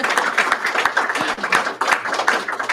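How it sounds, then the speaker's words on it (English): An audience claps in a brief, steady round of applause, many hands patting together up close. "Maybe we give them a quick round of applause."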